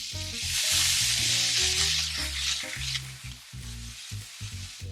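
Vegetables sauté in a pan for a breakfast dish, a strong hissing sizzle with rhythmic scraping and clunking of a utensil stirring them, close and continuous.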